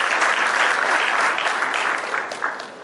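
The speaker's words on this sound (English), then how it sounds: "Round of applause." Dense audience applause at a speech event, loud and steady from the start, then slowly fading toward the end with a few last claps standing out.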